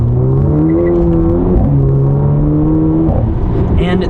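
Four-cylinder engine of a 2023 Mercedes SL43 revving while driving, heard from inside as loud steady rising drones that climb, drop between quick shifts, and climb again.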